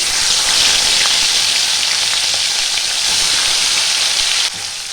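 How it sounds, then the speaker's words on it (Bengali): Katla fish sizzles and crackles in hot mustard oil, a steady loud frying hiss that drops off sharply near the end. "মাছগুলো একটু লাল লাল করে ভেজে নেবো আমি"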